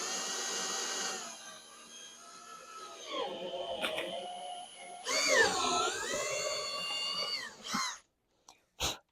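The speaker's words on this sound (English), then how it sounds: "we're going to drill the second one now" A power drill whines steadily, its pitch dropping and rising as it bites into the plastic of a beverage cooler, then cuts off with a few short bursts at the end.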